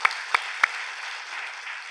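A few sharp, separate claps at the start, then a steady wash of church congregation applause during a Sunday service that continues evenly to the end.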